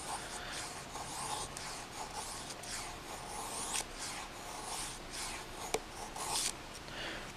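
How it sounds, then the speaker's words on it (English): A Bark River PSK fixed-blade knife scrapes along wood, shaving off thin curls in a series of short, soft rasping strokes, close and fairly quiet. "You can obviously go here and kind of work out some bigger, thicker shavings."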